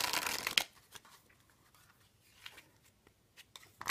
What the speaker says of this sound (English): The cards, they shuffle nice.